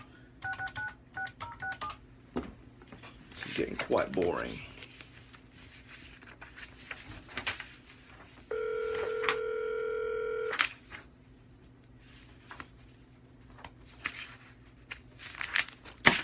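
Outgoing cold call on a telephone: scattered touch-tone dialing beeps, a long steady ringback tone in the middle, and someone speaking briefly between handling noises and clicks.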